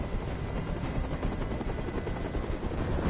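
Helicopter in a PS4 video game, a loud, continuous rotor drone with dense low thumping that holds steady throughout.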